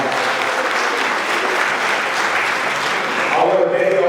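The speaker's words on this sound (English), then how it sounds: "Can we give them a round of applause?" Audience applause at a parent summit speech, a dense steady wash of clapping from a large crowd lasting throughout, loud and close, with a few voices and cheers rising near the end.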